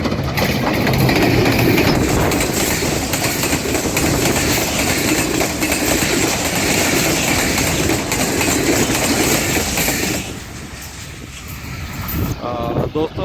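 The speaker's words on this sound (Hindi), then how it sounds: "दोस्तों ट्रेन गुज़र गई है" A train roaring past at about 110 km/h through a level crossing, a loud close continuous rumble and rattle of wheels and wagons that drops off sharply near the end, leaving quieter ambient noise.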